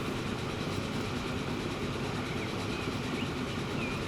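A train rolling along rails in the Transport Fever video game, a steady dense rumble and rail noise with faint metallic squeals, constant and moderately loud, no voices.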